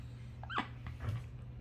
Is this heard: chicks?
no